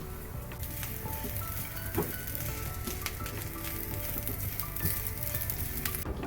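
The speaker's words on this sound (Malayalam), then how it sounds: "തേങ്ങ നമുക്ക് ഫ്ലെയിം കുറച്ച് നല്ല ഗോൾഡൻ കളറാവുന്നത് വരെ വറുത്തെടുക്കാം" Grated coconut frying in a pan gives off a steady close sizzle and crackle, with occasional scrapes of stirring and no talk over it.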